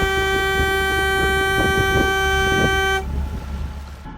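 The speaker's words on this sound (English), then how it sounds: "we could clearly hear all the foghorns from the many ships around us hidden in the fog" A ship's foghorn sounds on the foggy North Sea, one loud sustained harmonic blast lasting about three seconds before cutting off, with low engine rumble underneath.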